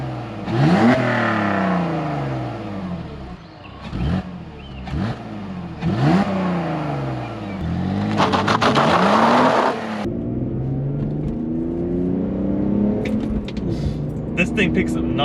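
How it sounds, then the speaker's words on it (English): BMW E46 inline-six engine with no exhaust fitted, revved several times in quick rising-and-falling bursts, loud and close, followed by a longer sustained pull and a rougher idle at the end. "I'll give you guys some quick revs. You can hear the inline 6."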